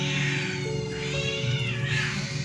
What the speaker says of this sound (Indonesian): kucing bertengkar